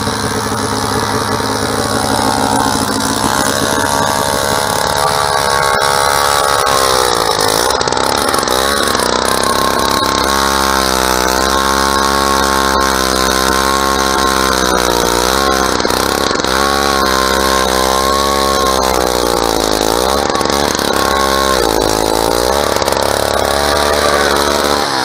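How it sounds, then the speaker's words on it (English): A motorized ice auger drills a hole through lake ice for ice fishing on North Lake, its engine droning loud and steady and rising and falling in pitch as the bit cuts. "My buddies are drilling a hole."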